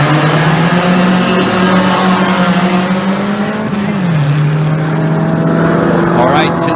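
A Camaro and a Celica drag race down the strip at a spectator drag event, loud engine roar with a rising then shifting tone, crowd and announcer noise mixed in throughout.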